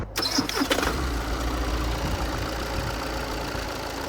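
A Skoda Kodiaq diesel engine cranks and starts, then settles into a steady, even idle with a low rumble that continues to the end.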